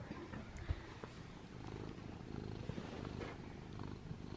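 A cat purrs softly and continuously while someone rubs it under the chin, a low, steady rumble close to the ear that stays quiet throughout with no talking over it.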